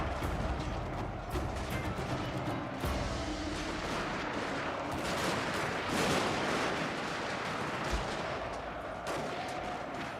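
Continuous battle gunfire from the Shogun 2 strategy game, rifle volleys and artillery-like booms packed densely and loud across the whole stretch, with no talking.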